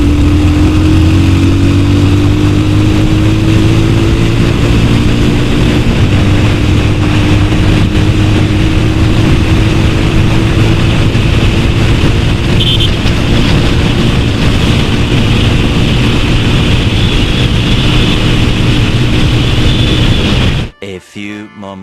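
A 2019 Bajaj Pulsar 220F motorcycle ridden on a mileage test, its engine droning loud and steady close by with a rising and falling hum, ending abruptly with a few scuffs.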